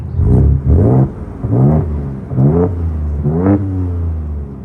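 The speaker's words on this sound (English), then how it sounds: "I actually always thought the Raptors, even with EcoBoost, have sounded good ever since like the Gen 3s come out" Ford Ranger Raptor pickup with an EcoBoost engine revving in five separate throttle blips, each rising in pitch and then dropping back, loud and close, with no voices.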